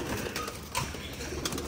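Pigeons or doves cooing in a loft, soft repeated coos close by over a steady background hum, with a brief flutter partway through.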